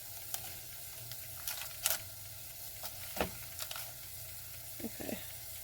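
Ground beef cooks in a pan with a faint, low sizzle, broken by scattered soft clicks and scrapes of a utensil, quiet and close.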